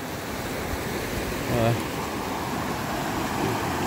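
Labi River in Bungabong, Nueva Ecija, flowing strongly as a steady broadband rush of water, close and continuous, with a brief voice-like murmur partway through.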